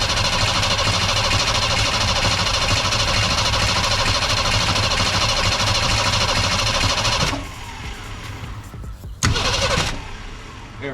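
Falcon car engine cranks and runs, a loud steady churning drone for about seven seconds that drops away abruptly, then a brief burst and quieter sputtering follow.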